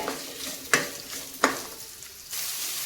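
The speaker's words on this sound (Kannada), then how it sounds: "ಈಗ ಇದಕ್ಕೆ ಒಂದು ಈರುಳ್ಳಿನ ಹಾಕ್ತಾ ಇದ್ದೀನಿ ಕಟ್ ಮಾಡಿ ಅದನ್ನು ಕೂಡ ಎಣ್ಣೆಯಲ್ಲಿ ಸ್ಲೋ ಉರಿಯಲ್ಲೇ ಬಾಡಿಸ್ಬೇಕಾಗತ್ತೆ" Chopped onion fries in oil over a low flame with a continuous gentle sizzle. Two sharp utensil knocks or scrapes from stirring stand out, and the hiss swells slightly toward the end.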